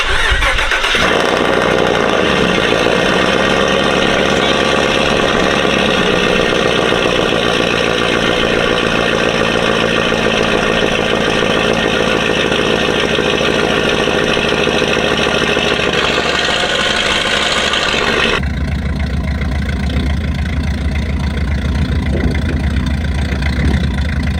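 A cammed 2024 GMC truck on a McGaughys 7-9 lift cranks and fires up close, then settles into a loud, lopey idle that carries on steadily, with no talking.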